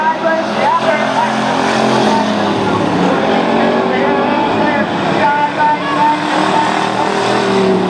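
A race car slides sideways on a speedway track, its engine droning with a tonal whine that wavers and shifts under a continuous roar, heard alongside a commentator's voice.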